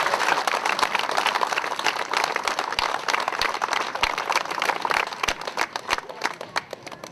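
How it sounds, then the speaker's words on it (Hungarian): Audience applause at an Esztergom Independence Day community gathering, a steady, dense wash of clapping from a crowd that runs the whole time, with a few sharper individual claps standing out near the end. "Egy tapsot nekik!"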